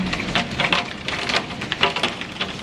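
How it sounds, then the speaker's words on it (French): Hailstones fall and strike a hard surface close by, making an irregular, crackling patter of sharp ticks and small bursts that never settles into a steady rhythm. "regardez-moi ça, on a de la grêle"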